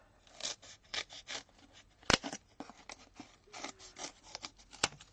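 Scissors snipping out a piece of paper for a Christmas card craft, a series of soft, close, crisp cuts and rustles in an irregular rhythm with one sharp click midway.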